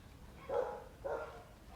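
Dogs in a kennel give two short, muffled barks about half a second apart, faint and somewhat distant, with no talking.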